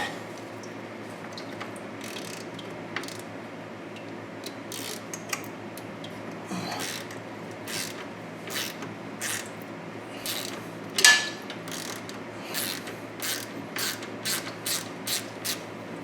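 A ratchet wrench clicks as it unbolts a radiator bolt on a 2013 Dodge Challenger, with sparse clicks at first and then a steady run of quick ratchet strokes toward the end, close and moderately quiet.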